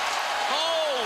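Dense roar of a big football stadium crowd at a Georgia Tech versus Clemson college game, a steady loud wash of cheering with a rising whistle-like tone partway through.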